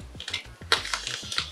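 Parcel weighing about 2.5 kg being cut open, a run of short dry crisp scrapes and clicks in quick uneven succession, close and fairly quiet.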